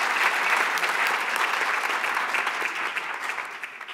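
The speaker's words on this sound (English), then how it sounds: "So can we give all our presenters a big round of applause there?" Sustained, even applause fills a conference hall at the National Space Conference 2023 as the audience honours the presenters, steady dense clapping that slowly tapers off.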